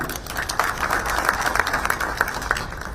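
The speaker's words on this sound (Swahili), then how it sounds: "Makofi tafadhali" An audience at a launch event claps together in a dense, steady round of applause that holds at full loudness throughout, without speech over it.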